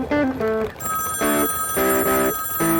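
A telephone in a phone booth rings in repeated loud electronic bursts, a close, insistent pattern of bell-like trills separated by short gaps.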